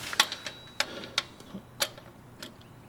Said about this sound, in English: I'm going to go ahead and torque down that drain to 33 foot-pounds.